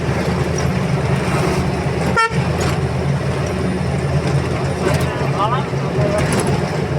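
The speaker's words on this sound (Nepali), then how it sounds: "यहाँ हर्न बजाउँछ" A vehicle horn toots over loud, steady road rumble while people talk nearby.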